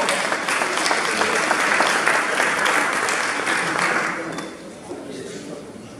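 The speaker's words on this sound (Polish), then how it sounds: "Wielkie brawa i gratulacje." Audience applause for the teacher of the year at a regional award ceremony, a dense sustained clapping that fills the room for about four seconds and then thins to scattered claps and murmur.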